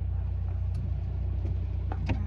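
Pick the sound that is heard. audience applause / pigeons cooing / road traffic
road traffic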